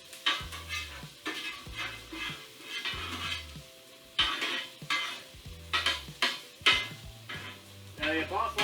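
Onions sizzle steadily in a hot pan while a utensil stirs and scrapes them in repeated bursts of clatter, close and fairly loud, for a Philly cheesesteak made with Impossible meat.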